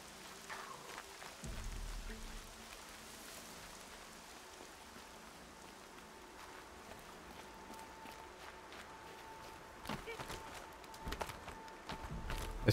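Rain falls steadily in the video game Horizon Zero Dawn, a soft continuous wash with scattered louder spatters and a few footstep-like thumps, with no voices over it.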